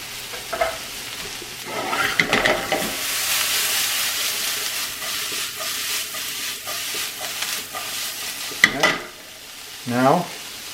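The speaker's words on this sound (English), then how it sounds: "now we're going to add that garlic right into the onions." Garlic and onions sizzle in a pan, a soft frying hiss that rises for a few seconds while a spoon stirs and scrapes, with a couple of sharp clinks near the end.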